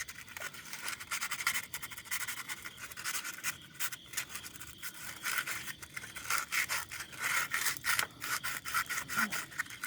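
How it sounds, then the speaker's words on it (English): Rolled-up sandpaper scrubs the inside of a car battery terminal on a 2015 Toyota Sienna, giving a faint, close, continuous gritty rubbing with quick back-and-forth scratching strokes. "I'm just going to use some rolled up sandpaper. I just want to clean the inside of the terminal a little bit."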